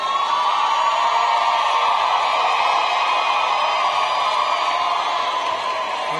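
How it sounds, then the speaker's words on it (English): A large commencement audience applauds and cheers for graduates, a dense, steady roar of clapping and crowd noise holding at full strength throughout without a break. "Let's give our graduates another round of applause"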